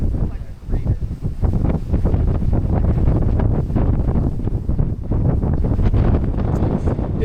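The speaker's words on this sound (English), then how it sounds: "It's a bit windy up here." Strong, cold wind on a Hawaii Big Island volcano buffets the microphone in loud, rumbling gusts that continue throughout, with voices faintly underneath.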